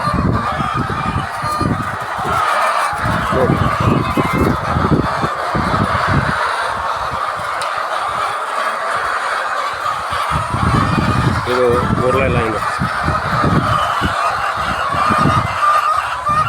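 Egg-laying hens at a poultry farm, a dense chorus of clucks and squawks from many birds at once, steady and close throughout, with a brief voice speaking near the middle.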